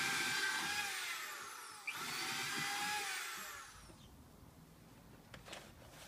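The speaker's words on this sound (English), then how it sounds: "Just going to drill some drain holes in the bottom of each planter." A power drill bores drain holes through the bottom of a planter, a loud continuous whine in two long bursts with a brief pause between, then tapering into quieter handling noise.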